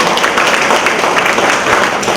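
Audience applause for two guest lecturers at an astrology talk, a steady, dense wash of many hands clapping throughout, fairly loud and close, with no clear voices over it.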